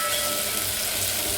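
Garlic tossed into onions frying in a pan sends up a dense, continuous close sizzle that holds steady and fairly loud throughout, with no talking.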